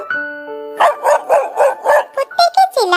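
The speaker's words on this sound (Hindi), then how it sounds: "कुत्ते के चिल्लाने की आवाज" A cartoon dog barks in a quick run of loud, close yaps after a short tonal musical note, about eight sharp barks in rapid rhythm ending in a rising whine.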